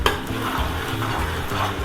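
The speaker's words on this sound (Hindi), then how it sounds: "ये ड्राई मसाले भी मैंने साथ में डाल दिए हैं, ये ऑयल में भुन रहे हैं" Dry spices frying in oil for Sindhi biryani while being stirred, a constant close sizzle with soft scraping strokes and no speech.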